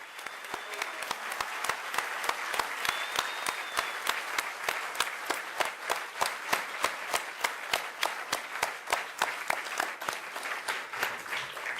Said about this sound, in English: So please, a round of applause for our comm.